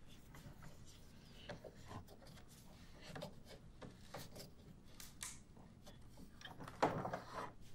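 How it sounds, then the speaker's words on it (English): A wooden clamp handle being turned on a carriage bolt held in a vise for a deep reach clamp gives faint, close scraping and rubbing of wood with small creaks and a slightly louder clunk near the end. "I'm going to go ahead and tighten the handle to the point where it pulls the head of the carriage bolt securely into the lower jaw"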